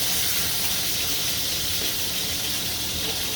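Eggs fry in plenty of fat in a very hot skillet, giving a loud, unbroken, close hiss like rushing steam with no pauses.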